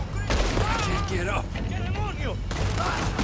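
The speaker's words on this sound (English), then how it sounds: "Dutch, are you shooting?" Rapid gunfire in Red Dead Redemption 2 during a fort defence, dense bursts running under overlapping voices throughout.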